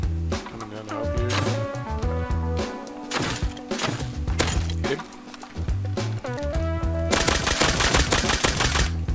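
Gunfire in the survival game Rust, with repeated sharp shots in quick bursts and a dense volley near the end, loud and close, mixed with game sounds and voices talking over it.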